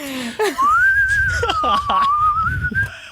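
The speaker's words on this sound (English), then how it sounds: "Okay, are you ready for the whistle?" Several people whistle a tune together in a sustained, wavering melody up close, broken by short giggles and laughter at the start and between phrases.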